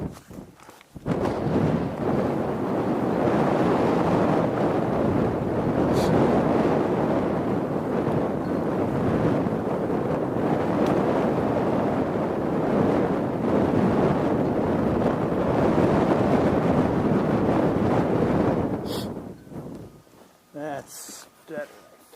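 Gusty wind buffets an outdoor microphone during a walking tour, a loud, steady roar filling most of the stretch before dropping away near the end, where footsteps and a voice briefly surface.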